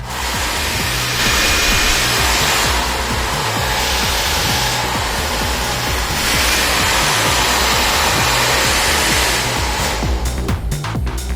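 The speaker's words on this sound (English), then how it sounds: "let's take the sound of the Vega Insta Look 1400 foldable hair dryer." A Vega Insta Look 1400 watt foldable hair dryer runs with a steady, loud, close whooshing roar. The airflow shifts slightly in tone as it moves, and a few fluttering interruptions come near the end.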